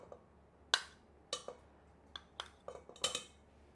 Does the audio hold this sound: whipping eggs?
yes